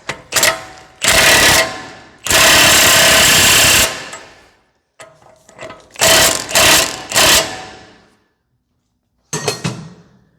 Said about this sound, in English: Just use a 100 foot-pounds torque stick so that I don't over tighten it by accident.